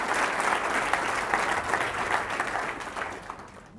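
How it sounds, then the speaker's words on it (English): A room of attendees applauds at a company all-hands meeting, a dense, sustained round of clapping that holds steady and then slowly fades toward the end. "I want you to give him a round of applause for it."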